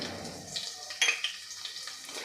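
Ginger and green chili sauté in ghee over a low gas flame, a soft, steady sizzle with light stirring scrapes and a few small pops, fairly quiet and with no voices.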